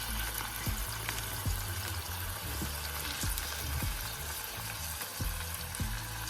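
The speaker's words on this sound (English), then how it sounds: "Let it sizzle a bit." Aloe vera sizzles in warm oil in a pan, a steady low frying crackle with soft stirring clicks and scrapes recurring about every second, fairly quiet and with no voices.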